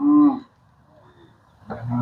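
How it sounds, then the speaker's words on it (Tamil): Cattle in a crowded pen of more than 600 cows in Jaffna give two loud, close moos, one at the start and one at the end, with a quiet pause between them. "இந்த மாட்டுப்பட்டிக்குள்ள மொத்தமாக அறுநூறுக்கும் மேற்பட்ட மாடுகள் நிற்கிறான்"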